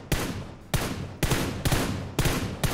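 Gunfire in a shooting video game: five sharp, loud shots at roughly half-second intervals, each with a lingering decay, heard close and without talk.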